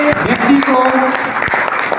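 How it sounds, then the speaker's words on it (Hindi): Audience at a business conference clapping to welcome a social worker, steady applause beneath a voice that keeps talking over it. "तालियों से स्वागत कीजिए"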